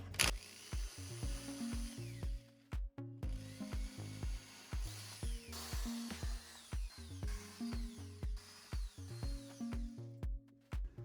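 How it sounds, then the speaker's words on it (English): A hand drill turns in repeated short bursts with a clicking, ratcheting mechanical rhythm, drilling into a CNC-cut Y spar part, close and fairly quiet, pausing briefly between each cycle. "I do need to manually drill inside the Y spar"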